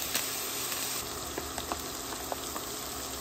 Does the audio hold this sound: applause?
no